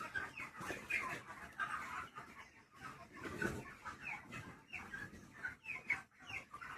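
Broiler chickens on a poultry farm clucking and squawking in overlapping bursts from a crowded flock, close and fairly lively, with no talk.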